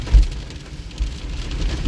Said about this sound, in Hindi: झमाझम बारिश लगी हुई है।